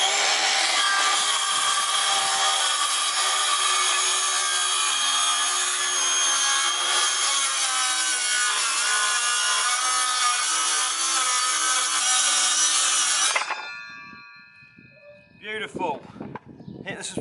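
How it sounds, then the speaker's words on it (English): A wooden worktop being cut with a saw for a kitchen counter in a budget camper van build, a loud continuous rasping cut lasting about thirteen seconds, then stopping abruptly, followed by faint handling noises. "let's cut this worktop"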